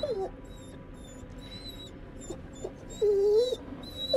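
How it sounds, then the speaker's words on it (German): A dog whimpers in the horror game The Devil in Me, high thin whines recurring several times, one longer cry near the end, over a low ambient background. "Winseln."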